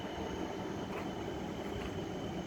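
An ŁKA regional passenger train runs through a Łódź station, its steady loud rumble of wheels and rolling cars filling the whole stretch with continuous grinding noise and faint metallic squeals.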